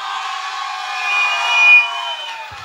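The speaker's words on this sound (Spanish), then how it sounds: "Ay, chinchanga, el aplauso de mi público." Live show audience giving a sustained wash of applause and cheering, steady and fairly loud with a brief swell in the middle, no voices standing out.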